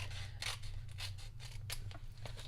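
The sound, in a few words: scissors cutting a rectangle of cardstock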